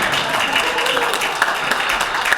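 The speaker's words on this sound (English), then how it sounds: "I don't know why my wife gives a round of applause for that" A round of applause at a budget forum, a scattered patter of clapping from a modest audience carrying on steadily and fairly close throughout.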